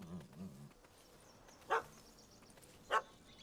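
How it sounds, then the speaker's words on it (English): A small dog barking in The Witcher 3: Wild Hunt, two short distant yaps separated by about a second, faint under a quiet game ambience after a brief voice. "That gammy puss ran up a tree to escape that puppy."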